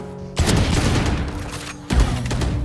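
Sustained video game gunfire bursts out as a loud continuous volley, breaking briefly near the end before a second burst resumes.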